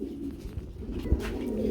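Pigeons at a pigeon market give soft low coos in short repeated pulses, fairly faint against light background noise.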